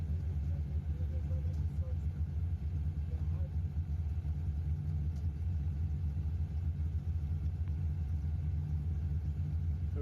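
Off-road race car on Mickey Thompson tyres crawling over huge rocks at a desert race, its engine giving a continuous heavy low rumble close by, with voices mixed in.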